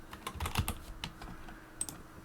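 Quiet, close keyboard typing into a computer terminal, a quick irregular run of key clicks with brief pauses, alone without voices.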